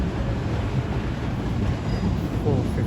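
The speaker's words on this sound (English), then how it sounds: "450-062 now departs" A Class 450 electric train, unit 450-062, pulls out of a London terminus with a continuous low rumble of wheels and traction hum, close and steady, under faint background voices.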